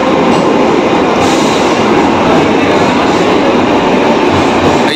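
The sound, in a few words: train departing Khidirpur station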